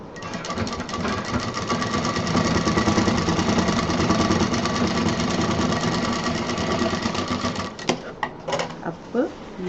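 A sewing machine stitches fabric for a machine cover, a close, continuous rattling whir running for several seconds before it stops, followed by a few handling knocks and clicks.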